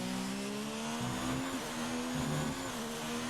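A Formula 1 car engine in a racing video game at the German Grand Prix whines at high, steady revs, with pitch shifts as the car shifts gears, loud and continuous.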